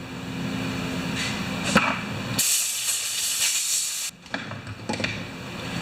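Compressed air blasts off part of a Honda wheelbarrow compressor in a repair shop: a loud burst of hissing air for under two seconds, set against a steady mechanical hum, with short puffs afterward.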